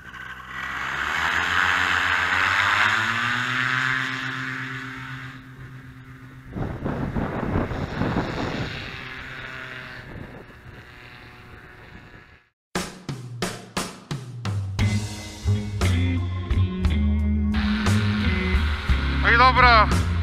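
A loud paramotor engine roars steadily and builds in power during takeoff, then cuts off, followed by louder rushing air and engine noise with brief pops.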